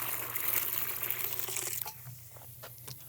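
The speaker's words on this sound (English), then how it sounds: "Take some water from your sprayer. Just pour some of that into your bucket." Water poured from a sprayer into a bucket for rinsing a bike, a hissing rush that thins into scattered trickles and drips as the flow eases off.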